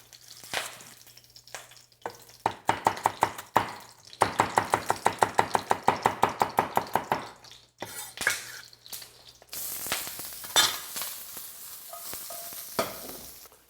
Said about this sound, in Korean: 파하고 마늘 살짝 볶아요